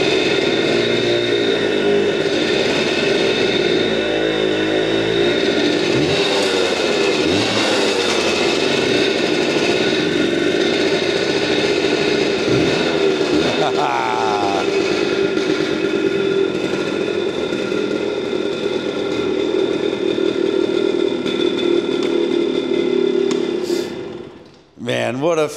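A small motorcycle bought at auction fires on a single kick and idles steadily and loudly up close, its engine note continuous before cutting off abruptly at the end, with someone talking over it.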